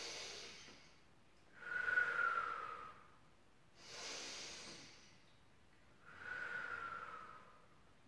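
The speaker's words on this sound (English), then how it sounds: "take a breath in through the nose" A person slowly breathes in and out through the nose during a gentle pilates flow, three long soft airy breaths, close and quiet, with pauses of near silence between them.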